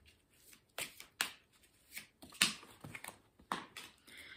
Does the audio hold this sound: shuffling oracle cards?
yes